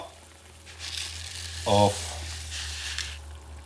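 Shrimp paella broth boiling in a pan as bomba rice goes in, a soft steady bubbling and sizzling hiss with a brief rustle of rice being poured, under a speaking voice.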